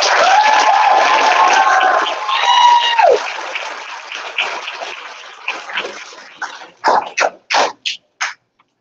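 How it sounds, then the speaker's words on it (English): An audience at a doctoral dissertation presentation applauds loudly with some cheering, then the clapping thins out into a few scattered bursts before stopping. "please give her a round of applause"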